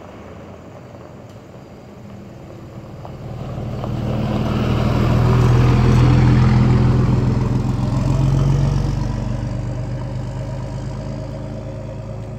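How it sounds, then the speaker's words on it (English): A truck rumbles past outdoors, its low engine drone swelling from a distant approach to a loud peak midway, then easing off and lingering as it recedes, with no talking. "It's a truck, by the way, not a car."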